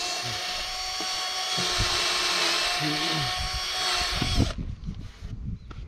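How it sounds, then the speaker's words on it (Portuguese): A power drill runs continuously as it bores holes during a home repair job, a steady high-pitched whine that cuts off abruptly near the end, followed by clattering handling noises and voices talking nearby. "Faz três furação."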